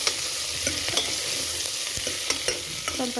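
Eggplant, carrot and radish stirred together in a pan for vegetable dal sambar, with a low continuous sizzle and scattered light scrapes and ticks of the spoon on the metal, close and without voices.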